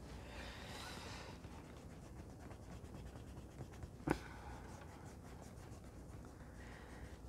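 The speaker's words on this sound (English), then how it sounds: "Let's rub out those pencil lines." A rubber eraser rubs out pencil lines on paper in a B6 Stalogy planner notebook, a steady close scratchy brushing that runs throughout with one brief sharper scrape midway.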